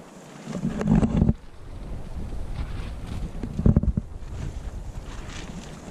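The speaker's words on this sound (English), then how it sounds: "It's so windy." Strong gusts buffet the microphone at a campsite in Great Basin National Park, a broad, roaring rumble swelling loudly twice amid constant blustery wind noise.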